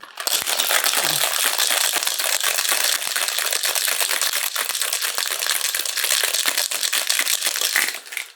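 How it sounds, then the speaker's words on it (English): Ice rattles hard inside a cocktail shaker, a loud, dense, continuous clatter that runs for about eight seconds and then stops abruptly, with no talking. "Now we're going to add some ice to get it nice and cold. Right in the shaker. Shake it about 20 seconds."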